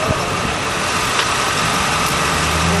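A 331 Chrysler poly engine, sitting unused for 30 years, runs with a rough, steady idle, a loud continuous low rumble and clatter with no talk.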